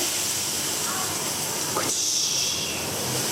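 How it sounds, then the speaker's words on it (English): Tuna pieces searing in a very hot pan, a loud continuous hiss of sizzling oil close by with a brief surge as food drops in. "We have our pan. It's searing hot. I'm going to chuck these in."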